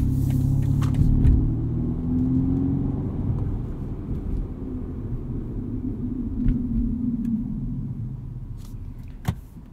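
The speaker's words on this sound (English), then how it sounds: "there's quite a bit of tire noise as well." Steady low road and tire roar fills the cabin of a 2020 BMW M235i xDrive Gran Coupe on the move, a continuous rumble with a few faint knocks and a sharp click near the end, no talk.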